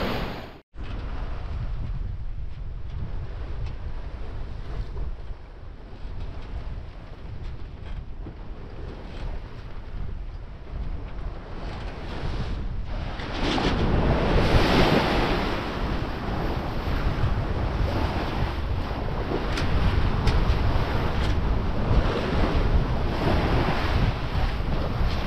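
Strong headwind buffets the microphone at sea over the rushing wash of ocean waves, growing louder and rougher midway through.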